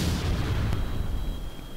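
A missile launches from a fighter jet in Kerbal Space Program, heard as one loud, close boom that settles into a steady roar before fading slightly.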